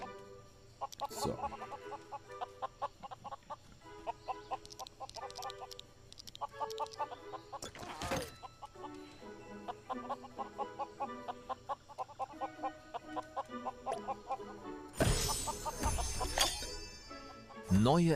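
Chickens cluck in short repeated bursts inside the LEGO Worlds video game, mixed with game music and effects, with a louder burst of sound near the end.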